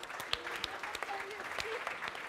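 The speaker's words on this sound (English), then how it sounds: "big round of applause for Liris." Light scattered clapping from an audience at an aquaculture startup demo day in Bergen, a few separate claps over quiet room noise and faint talk, soft and somewhat distant.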